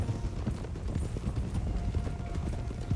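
Horse hooves clip-clop in the video game Red Dead Redemption 2 with a steady, continuous run of close, dense hoof beats at an even pace, and no talk over them.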